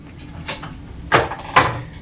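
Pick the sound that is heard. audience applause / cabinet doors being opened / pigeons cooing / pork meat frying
cabinet doors being opened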